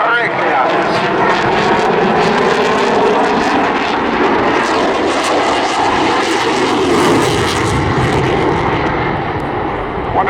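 Eurofighter Typhoon FGR4 fighter jet performing a loop at a seaside airshow, a continuous loud roaring jet engine rumble that stays strong throughout, with an announcer talking over it.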